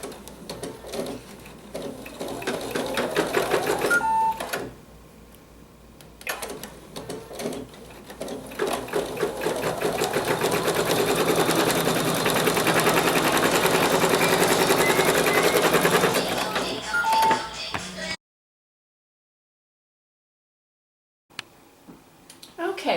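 An embroidery sewing machine stitches a placement line for the belly of an owl mug rug, whirring and rattling steadily and loudly for about eighteen seconds before stopping into silence, with a brief clatter at the end.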